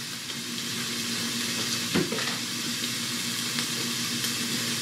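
Garlic frying in a pan gives a steady, even sizzle with a faint tonal hum beneath and one short clatter near the middle.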